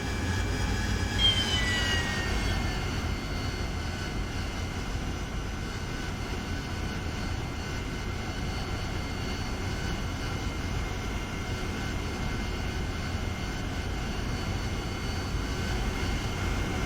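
A jet aircraft in a combat flight simulator taxis toward parking at a forward operating base, a steady loud engine whine and low rumble holding throughout, with a brief rising tonal sweep near the start.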